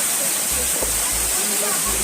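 Constant rushing roar of a small waterfall at Ashok Jhar, Odisha, fills the scene evenly, with a low rumble underneath and no break.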